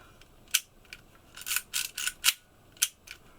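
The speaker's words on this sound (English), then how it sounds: "So fairly standard clicky clicky 110 film camera here" Shutter clicks from a Prinz 120 Lux 110 film camera, a string of sharp, close clicks in an uneven rhythm, some single and some in quick clusters, with quiet gaps between them.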